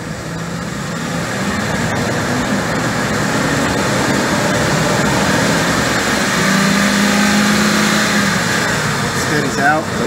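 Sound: car engine revving

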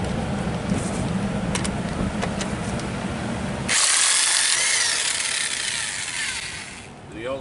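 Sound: electric impact wrench removing RV wheel nuts

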